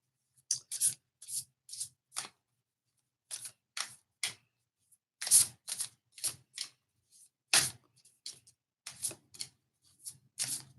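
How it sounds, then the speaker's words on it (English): A deck of oracle cards is shuffled by hand, with short crisp riffling bursts in an irregular rhythm separated by brief silences, close and clear with no talking. "I'm going to shuffle the cards for our viewer"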